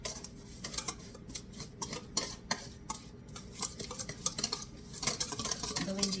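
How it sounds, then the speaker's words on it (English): Eggs whisked together in a bowl: quick, close, irregular clinks and taps of a whisk against the bowl, fairly quiet and continuous, with no talking. "We want you to whisk this together."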